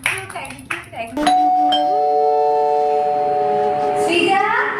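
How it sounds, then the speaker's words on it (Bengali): A doorbell rings with a sustained electronic chime of ringing tones lasting a few seconds. It follows brief voices and claps at a birthday award show, and a voice returns faintly at the end. "দেখ তো দরজায় কে এসেছে, ডোরবেল বাজাচ্ছে।"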